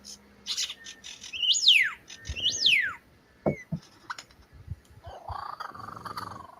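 Live birds mimicking a kookaburra call give two loud rising-then-falling whistled swoops in quick succession, followed by a few sharp chirps and a softer, steady warbling trill.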